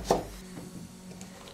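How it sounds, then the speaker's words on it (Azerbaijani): One sharp, close knife stroke slices thinly through a carrot on a board, followed by near silence with only faint board noise. "Köklərini bu qaydada nazik doğrayırıq."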